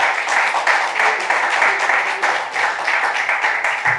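Steady applause fills a room at a studio gathering, dense overlapping claps at a constant level throughout, with no break.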